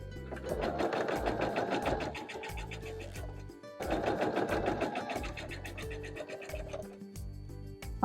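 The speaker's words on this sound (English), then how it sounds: "We are going to be sewing piece R to the top of the beak." A sewing machine stitches small quilt pieces together in two steady runs of rapid, even needle rattle, close and clear, with a brief pause between bursts.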